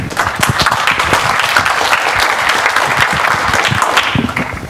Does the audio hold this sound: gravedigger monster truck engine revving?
no